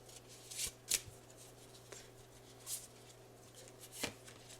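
Tarot cards being shuffled by hand before one more card is drawn, giving a few short, soft riffling bursts spaced apart over a quiet room hum, close and fairly faint.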